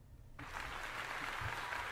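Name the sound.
applause at the start of a song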